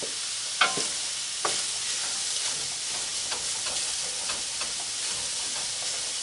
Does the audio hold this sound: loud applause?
no